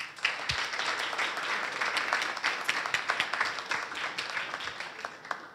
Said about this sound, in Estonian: Aga täname siis meie esinejad kõik ühe suure aplausiga veel